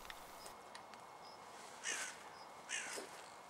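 Crows caw in hedgerow countryside, two or three harsh calls at a moderate distance, separated by short pauses, over quiet background hiss.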